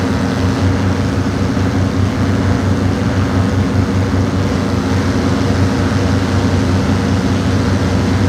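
A small propeller airplane's engine drones steadily during a climb over South Raleigh, North Carolina, a loud, constant cabin roar with a low throbbing hum and no break throughout.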